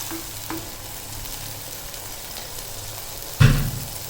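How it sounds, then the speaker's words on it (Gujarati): Tomatoes sauté in a hot pan with a steady, close sizzle and an occasional clatter of stirring, swelling into a louder hiss near the end as the pan is moved, with no talking. "ટમેટાને પણ બે મિનિટ માટે સાતળી લેશું"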